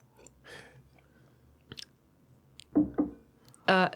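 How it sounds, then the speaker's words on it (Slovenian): A person takes a sip of water from a small glass, making a few close, soft gulping and mouth sounds in a quiet room. "Čakaj, bom kozarček, požirek vode."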